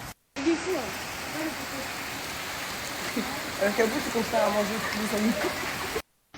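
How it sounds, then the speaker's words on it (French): Steady rain pours down with a dense hiss, while voices talk intermittently over it; the downpour sounds close and constant. "Et il pleut, mais un truc de ouf."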